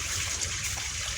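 Irrigation water flowing along a field channel on a farm where garlic is being planted, a steady close rushing and gurgling wash filling the whole short moment.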